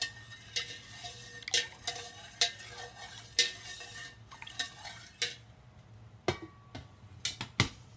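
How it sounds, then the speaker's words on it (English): A spoon stirs half a cup of yogurt into milk inside an Instant Pot, giving close, irregular scraping and clinking strokes against the metal inner pot with a few sharper taps, heard alone. "Stir that in."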